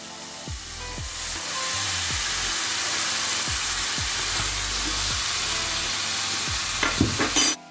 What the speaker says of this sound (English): Now we're gonna keep stirring it for another 5 minutes.